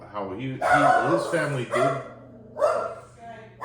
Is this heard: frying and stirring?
no